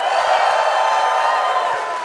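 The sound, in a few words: convention audience cheering on cue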